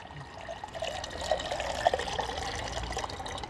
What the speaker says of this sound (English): then I'm going to add some more water